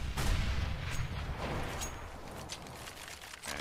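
Sniper rifle gunshots in CS:GO, a headshot through steel during a 3DMAX versus UMX.us showmatch: a sharp loud shot at the start, then dense overlapping gunfire and game noise through a short stretch.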